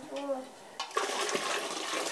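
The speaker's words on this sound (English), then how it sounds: "I'm just adding more water so my fibres will have some more space" Water poured into a pot of madder dye for natural tie-dyeing fibres, a brief splashing pour that starts partway through after a short voiced sound and continues as a steady trickle.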